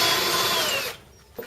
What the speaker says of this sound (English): then I'm going to round it out, make it a little bit bigger with a drill bit